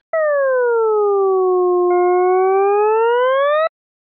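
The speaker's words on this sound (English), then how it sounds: "by hitting Alt-T when having a graph selected, you can hear your graph played by Desmos." A Desmos graphing calculator plays a graph as a loud, pure tone that dips and then climbs in pitch. A second, higher tone joins halfway and rises with it until both cut off together, with no talk.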